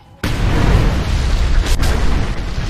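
A thrown explosive detonates in the Mad Max video game, a sudden loud boom that sets in after a brief quiet start and rolls on as a heavy, sustained rumble with a sharper crack near the middle.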